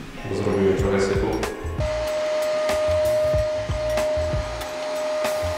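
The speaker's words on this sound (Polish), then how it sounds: "Wracamy do odkurzania." A household vacuum cleaner runs steadily during cleanup after previous owners in a renovated home, a loud continuous whine and airflow roar with a sustained tone, bumps and knocks, and a voice speaking over it at times.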